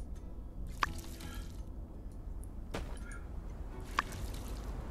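A watering can pours onto crops in the video game My Time at Sandrock, soft trickling and dripping water with a few sharper splashy squelches, quiet and close, with no talking.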